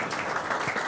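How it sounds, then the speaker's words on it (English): Brief burst of conference audience applause, dense and steady clapping from a crowd in a hall, filling under a second without any talk. "Let's give him a final round of applause."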